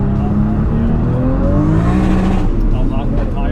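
A big-turbo, manual-gearbox 800 hp Toyota Supra pulls hard, loud and close, its engine note climbing steeply. A gear shift briefly breaks the rising tone before it keeps pulling.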